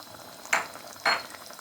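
White chillies and cumin dropped into hot oil in a cooking pan, giving two short bursts of sizzling about half a second apart over a faint background hiss.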